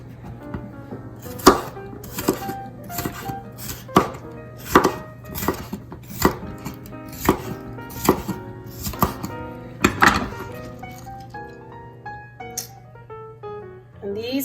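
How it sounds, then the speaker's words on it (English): A knife slicing a seeded bell pepper on a cutting board, a regular run of crisp thuds about one every second, close and distinct, with a steady low hum underneath. "Just take the seeds out and slice."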